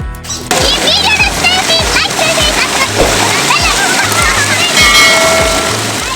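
Children splash and play in borewell water at a farm, with loud repeated splashes and sloshing over excited kids' voices and shouts throughout.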